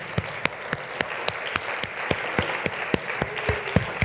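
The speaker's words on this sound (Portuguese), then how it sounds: "Vamos dar outra salva de palmas para Jesus Cristo." Applause from a church congregation, a crowd clapping together with strong, fairly even beats rising over a dense patter of hands, steady and moderately close throughout.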